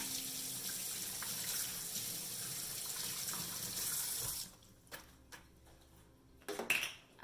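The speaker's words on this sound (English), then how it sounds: "I'm going to wash my hands" Tap water runs steadily into a kitchen sink as hands are washed, a close continuous splash lasting about four seconds, then the flow stops and a few faint clinks and a soft knock follow.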